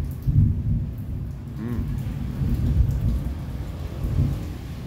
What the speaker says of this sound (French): Ah, un autre orage se présente.